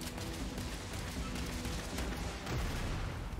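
Combat in the Starfield video game: a dense barrage of gunfire and booming blasts, continuous and loud, swelling into a heavier explosion near the end.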